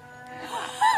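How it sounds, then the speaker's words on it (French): A donkey brays in a garden, a brief rising wheezy call that swells out of low background noise within a second. "quand il y a l'âne aussi qui fait du bruit"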